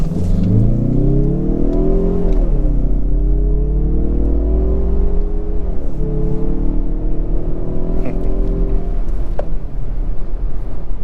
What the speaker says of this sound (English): Try a quick acceleration.